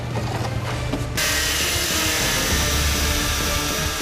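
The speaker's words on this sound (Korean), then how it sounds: "돌아가는 날이 워낙 날카로워서 기계를 제대로 다루지 않으면 만들고 있는 물건을 망치는 것은 물론 작업자에게도 위험할 수 있다" A rotating-blade power cutter slices through material while a camper van is being built, starting abruptly after a brief lower hum and then running as a loud, steady, high-pitched whine with no talk.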